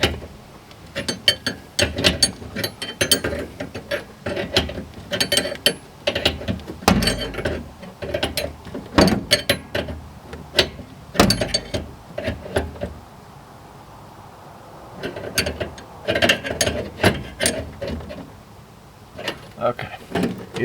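A wrench snugs a fitting on a Suburban tankless water heater in an RV, giving repeated ratcheting clicks and metallic taps in irregular bursts under a man's speech.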